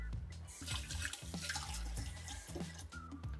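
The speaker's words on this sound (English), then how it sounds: "But let me rinse off my hands first." Hands rinsed under a running kitchen tap while cooking, with a steady close splash and trickle of water continuing throughout.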